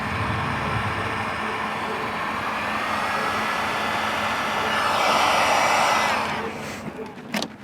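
A 2-kilowatt hair dryer blows hot air in a steady, loud rushing whoosh that runs for several seconds, swells briefly near the end, then cuts off with a few clicks and handling noises.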